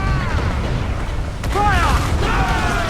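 Ship cannon fire in the video game Assassin's Creed Black Flag: deep booming rumble that swells midway, under loud shouting voices.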